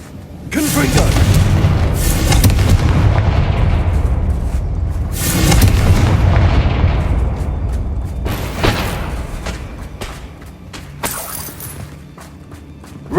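Confringo blasting spells firing in the game Hogwarts Legacy: a few heavy, rumbling booms with crackling, shattering tails, loud and close, swelling then fading over several seconds, with speech heard over them.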